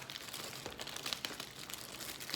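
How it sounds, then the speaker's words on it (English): A plastic bag holding coffee crinkles in a home kitchen, faint, close rustling and crackling that runs unevenly through the moment, with no speech. "I seal my coffee in a plastic bag"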